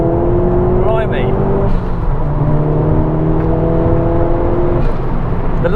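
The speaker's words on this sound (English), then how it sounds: "Oh, I love the sound of the dump valve." Ford Focus RS accelerating hard under steady engine drone, with a short whooshing dump-valve release near the start and another near the end, heard from inside the car while occupants talk.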